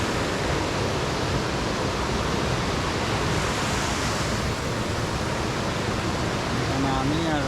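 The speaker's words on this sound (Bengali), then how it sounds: "এদিকে ঝর্ণা।" A forest waterfall by a small jungle in the northeast Indian hills, a steady loud wash of rushing water filling the whole clip without pause.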